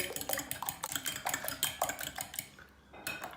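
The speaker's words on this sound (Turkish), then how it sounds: "Hemen şöyle bir çırpalım." Eggs with a pinch of salt are beaten briskly with a utensil in a bowl. Rapid, rhythmic clinks and scrapes sound close by, then pause briefly near the end before resuming.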